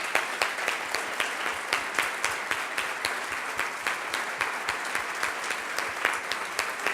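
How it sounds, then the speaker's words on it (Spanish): An audience claps steadily for several seconds, an even stretch of applause with no voices over it. "me gustaría que todos le brindemos un aplauso a Mercedes por toda su"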